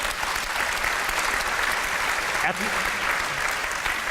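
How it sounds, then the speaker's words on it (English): Steady applause fills the whole stretch, an even wash of clapping from a conference audience at close range. "At least I got one clap for Rana Plaza."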